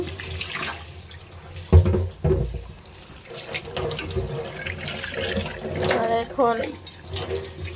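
Tap water runs into a flask at a home sink in a steady wash, with a couple of louder splashes near the start and someone talking over it.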